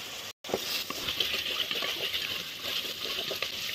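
Chunks of mutton go into a hot pan of fried ginger-garlic paste, setting off a continuous busy sizzle and crackle with small clinks, after a brief cut to silence at the start.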